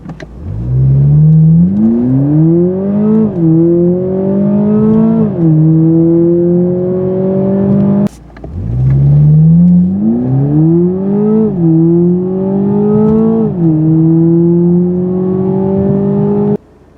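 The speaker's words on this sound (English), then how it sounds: "Let's do a 0 to 60 run" A 2021 Toyota Supra with the four-cylinder engine accelerates hard from a standstill, its note rising through the revs, dipping at two upshifts, then repeating with another strong pull; loud, close and steady, with no talk.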